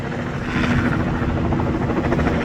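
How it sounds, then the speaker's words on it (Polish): A helicopter thrums steadily overhead in Miami during street protests, its rotor chop loud and continuous with a low droning hum underneath throughout. "skoro jest Miami, to muszą być również helikoptery nad głowami."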